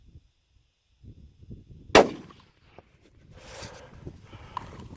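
A single sharp rifle shot rings out while elk hunting in Wyoming, loud and sudden after quiet rustling, followed by faint movement and low outdoor noise.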